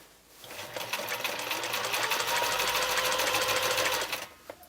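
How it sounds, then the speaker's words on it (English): A sewing machine runs steadily for about four seconds, stitching forward and back over quilt binding with a fast, even mechanical chatter, close and loud with no talk. "Couple stitches forward, couple stitches back."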